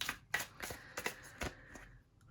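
Tarot cards being shuffled by hand, a series of soft papery riffles and flicks in quick bursts, close and fairly quiet with no talking.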